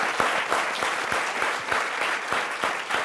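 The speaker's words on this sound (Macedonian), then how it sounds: "Аплауз еден за Диви." A studio audience applauds steadily for a guest on an interview show, a dense wash of clapping with sharper individual claps standing out throughout.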